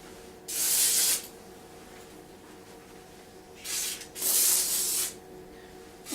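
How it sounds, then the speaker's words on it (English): Close aerosol pest control spray hisses in three bursts around a kitchen sink: one short, then two longer ones after a pause, over a quiet room background. "So we're going to spray, just like they say, around here."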